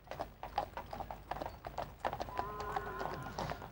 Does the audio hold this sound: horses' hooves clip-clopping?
yes